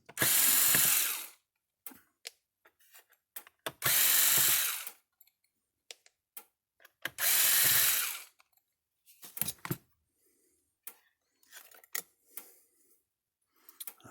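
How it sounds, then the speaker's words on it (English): Screws are driven out of the casing of a Speedrite 12000i electric fence energizer under repair. Three loud, close whirring bursts of about a second each are followed by quieter clicks, rattles and handling noises. "take all these screws out"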